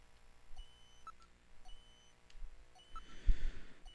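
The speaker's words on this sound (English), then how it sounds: "But there is a distinct beeping." Faint, distinct electronic beeps repeat at intervals in the Sega CD video game Snatcher, over a low hum and soft background tones.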